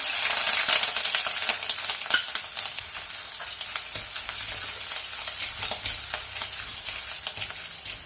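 Steady high crackling sizzle of crushed ginger frying in hot coconut oil, with a sharp clink near the start and faint stirring scrapes throughout.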